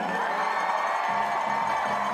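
A crowd cheers for American cross-country skier Jessie Diggins at a World Cup awards ceremony in Lake Placid, a steady wash of applause and shouting that holds at an even level throughout.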